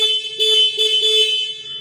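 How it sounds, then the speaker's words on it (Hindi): A 2022 Suzuki Gixxer 155 BS6 motorcycle's electric horn blares continuously for about two seconds, bright and buzzy with a slight wavering in loudness, close by. "तो आपने हॉर्न भी सुन लिया।"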